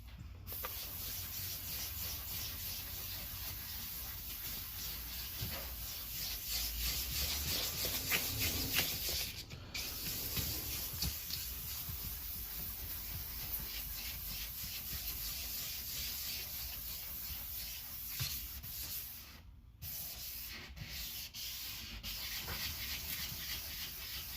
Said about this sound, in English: Just going to sand until all of that's gone.